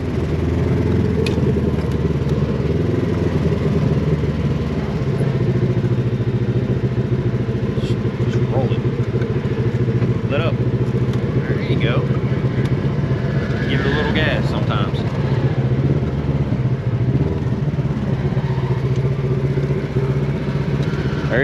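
An off-road vehicle engine drones and revs steadily on a trail in the Indian Ridge system of the Hatfield McCoy trails, loud and continuous, with someone talking over it.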